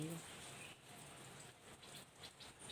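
Steady rain falls on a home yard while runoff water flows across the ground, a soft continuous hiss that stays faint and even throughout.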